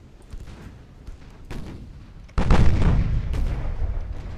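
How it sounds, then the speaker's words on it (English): Naval gunfire from warships in Ultimate Admiral: Dreadnoughts, with booming salvos over a rumbling battle din that jumps sharply louder midway into a dense, continuous roar of heavy cannon fire. "There is a lot of fire coming off of these ships."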